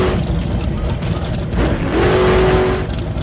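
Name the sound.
Porsche 996 RSR race car driving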